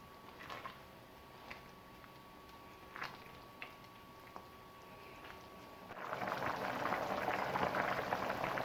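Hot and sour soup simmering in a pot, a soft steady bubbling that swells louder in the second half, with a few faint clicks of utensils early on.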